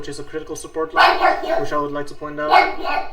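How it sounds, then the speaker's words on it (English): A dog barks and yips several times in quick bursts, mixed under a man's steady speech nearby. "I don't know if you guys can hear my dog barking"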